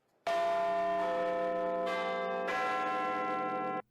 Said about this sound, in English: they have a whole lot of different pulls and a whole lot of different bells, and they can play different tones